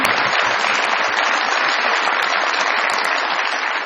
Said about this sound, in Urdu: بہت بڑی تالیاں جی آصف باجوہ صاحب کے لیے